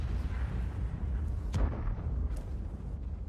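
A distant heavy tank cannon boom in a video game, from a Controcarro 1 Mk. 2 tank destroyer match, breaks through a constant rumbling background, followed by a fainter second thump.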